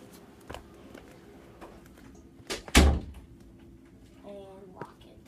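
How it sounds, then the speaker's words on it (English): A door is shut indoors with a single solid, fairly close thud partway through, against a quiet room with faint background sounds and a short electronic warble afterward. "I'm gonna close the door."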